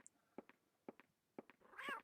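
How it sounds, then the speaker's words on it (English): A cat meows three times at a steady pace, then gives a longer, rising wail at the end, inside the video game Clock Tower: The First Fear, heard alone without talk. "There was only a cat hiding in here."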